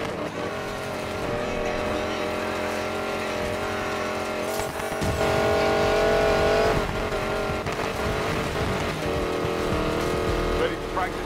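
A hypercar loaded with prototype tech races in Need for Speed Payback, its engine droning and rising in pitch with brief tire noise, loud and continuous over a music-like background bed.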